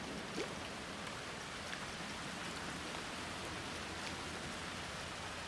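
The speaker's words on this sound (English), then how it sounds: "It's raining." Rain in the theme-park game Planet Coaster 2 falls as a steady, even hiss of droplets pattering on surfaces, continuous and moderately loud with no voices.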